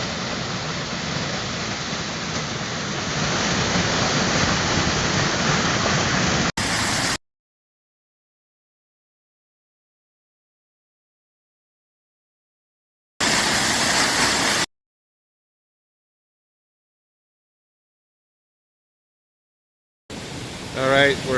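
A mountain waterfall in Colorado's San Juan range rushes with a steady, loud roar in short bursts broken by stretches of silence.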